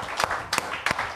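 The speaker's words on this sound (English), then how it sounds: "Give him a hand clap." A church congregation claps during a worship service, with a few sharp, separate hand claps heard fairly quietly in a brief, sparse burst.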